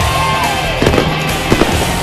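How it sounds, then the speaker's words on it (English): Fireworks pop and crackle over a roaring stock car racing crowd at The Winston All-Star night on a speedway, with a couple of sharp bursts standing out against the steady loud background noise. "Lots of fireworks on and off the track."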